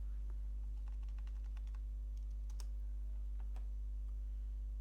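Someone types a website address on a computer keyboard, producing quick, light, uneven clicks in short runs over a steady low electrical hum, with no talking.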